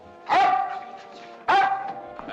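Two sharp, loud dog barks about a second apart, each with a ringing tonal tail that fades slowly.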